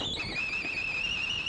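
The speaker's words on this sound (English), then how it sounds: "That's my kettle." A kettle whistling as it comes to the boil in a 1961 kitchen setting, a steady high-pitched whistle held throughout at moderate loudness with no talk over it.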